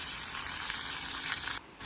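Tomatoes sauté in a hot pan for squid adobo, producing a loud, steady close-up hiss of frying that cuts off abruptly near the end before faintly resuming.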